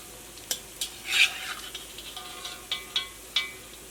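A rice flour and peanut snack frying in oil, a faint background sizzle broken by several sharp clinks and scrapes of a metal utensil against the pan, close and quiet.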